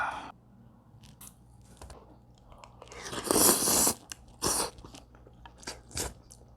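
Close-up eating of pork head meat and rice soup from a Korean market gukbap spot, with soft chewing, then a loud burst of slurping and a few short crunchy bites.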